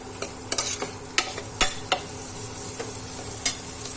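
Long beans and potatoes with coriander-cumin powder sizzle steadily in a pan while a spoon stirs and scrapes in irregular close knocks.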